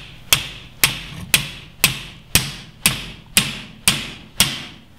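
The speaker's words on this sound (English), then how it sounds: "now we can pound the clips back into place." Hammer blows driving metal clips back into place on a homemade Jeep Cherokee pack, nine sharp, evenly spaced strikes about half a second apart, loud and close with a short ringing decay after each.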